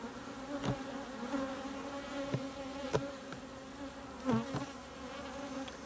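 A steady, close hum of many honey bees droning together in an open hive, with occasional soft knocks and clicks from handling beekeeping equipment nearby.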